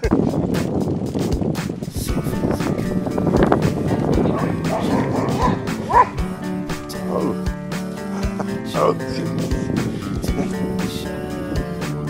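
Dogs met along a trail beside a recumbent trike bark repeatedly, sharp close woofs with some yips and whimpers scattered through, while people talk in between.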